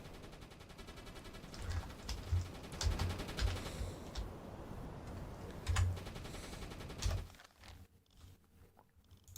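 Anti-aircraft guns fire at an enemy plane in a submarine video game, rapid bursts of automatic gunfire in several clusters over a constant background rumble, fairly faint, ending in a quieter stretch.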